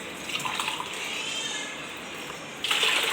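Hot water poured by the glassful onto sabudana (sago) for potato sago papad, a steady close pouring stream that gets louder near the end, with no voices.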